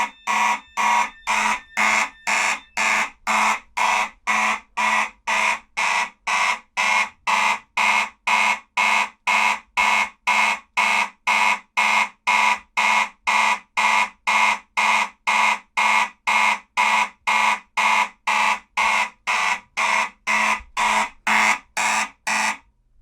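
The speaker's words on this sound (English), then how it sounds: "set the system to march time, so that way we can hear a mechanical horn in march time" Fire alarm mechanical horn sounding in march time during a system test, a loud, harsh, guttural blast pulsing in steady rapid on-off bursts, about two per second, sustained throughout with no talk.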